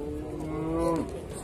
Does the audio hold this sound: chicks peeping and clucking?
no